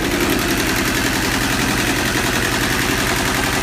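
Yanmar YM146 two-cylinder diesel engine running at a steady idle, with a loud, close, rapid even knocking throb and no talk.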